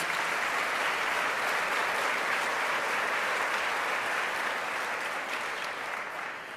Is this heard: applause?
yes